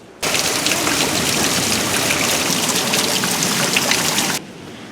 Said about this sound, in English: If you can hear outside, it's thundering and pouring.